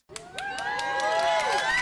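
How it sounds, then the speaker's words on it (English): A played sound effect of a crowd clapping and cheering starts abruptly and builds into steady applause with whoops and shouts. "let me get the claps"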